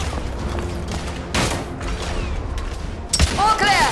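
Suppressive gunfire from a crew in the video game The Order: 1886, heard as a few heavy shot bursts and mechanical clatter over dense battle noise, with a voice calling out near the end.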